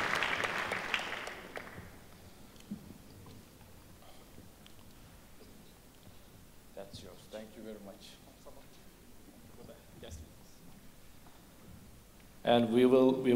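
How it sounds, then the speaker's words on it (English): An audience at a family-medicine lecture applauds briefly. The burst of clapping fades within about two seconds, then someone speaks and quieter room sounds follow. "An applause."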